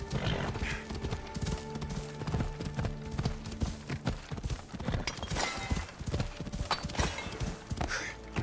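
A horse galloping under its rider in Assassin's Creed Odyssey, rapid rhythmic hoofbeats pounding close and steadily, with a whinny and scattered clatter mixed in.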